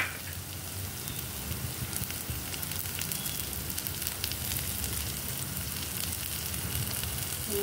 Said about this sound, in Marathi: त्यानंतर आपण यामध्ये कांदा टाकूया.